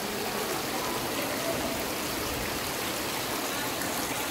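Water flows from a fountain in the medieval town of Siena, Tuscany, as a steady, close, broadband rush that continues without a break for the whole stretch.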